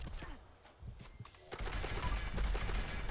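Quad explosive railway rifle gunfire in the Fallout 76 video game, starting as scattered faint shots and bursting into a dense, loud rattle of rapid explosive impacts in the second half.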